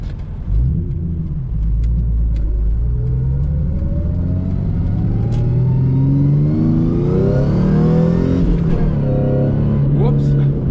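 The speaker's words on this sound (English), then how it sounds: "This V6 is a pushrod engine, so there's a lot less weight there." A Ford Mustang V6 pushrod engine accelerates hard on an autocross course, its revs rising in a steady climbing sweep through the gears, loud and close throughout, with a brief dip around a shift before pulling up again.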